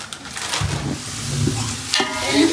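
Onions frying in a pan for Hyderabadi chicken dum biryani, a steady close sizzle with scraping stir sounds and a couple of louder clatters, no talking.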